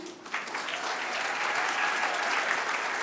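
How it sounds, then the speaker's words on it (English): A ceremony audience applauds Shahrukh Khan as he receives a French honour, a dense, sustained wave of clapping from a large crowd that swells quickly after a brief quiet start and holds steady and loud. "Ladies and gentlemen, a round of applause once again."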